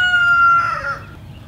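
A chicken being fed leftover coconuts gives one loud, close, drawn-out call that trails off, with quieter farmyard ambience behind it and no talk.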